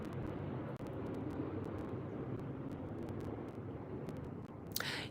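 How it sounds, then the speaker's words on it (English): An airplane passes overhead, a broad, steady distant roar filling the background at low level, with occasional faint clicks and a brief burst near the end. "It's a plane above"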